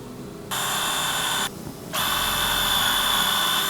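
Surgical drill driving screws through a bone plate on the tarsal bones of a young Rottweiler's ankle, two loud steady high whines separated by a short pause.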